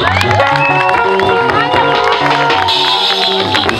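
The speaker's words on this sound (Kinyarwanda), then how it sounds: "Amashyi kwa Yesu." A gospel concert crowd in Dar es Salaam cheers and claps for a singer, loud and close, with shouting voices and whoops layered over the applause.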